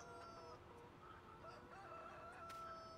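Chickens in the Farming Simulator 19 video game on the Ravenport farm, with a rooster crowing and hens clucking softly in a steady low background. No one speaks.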